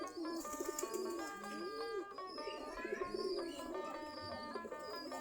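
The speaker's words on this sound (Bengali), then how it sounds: "আমাদের দেশি গিরিবাজ কবুতর" Native desi Giribaz pigeons perched by their coop after feeding give soft, continuous cooing throughout, with other bird calls and faint tonal background sound mixed in.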